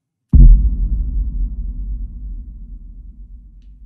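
A cinematic trailer boom built from a recorded sample strikes once after a brief silence: a loud, deep impact that swells into a long low rumble and fades slowly over several seconds.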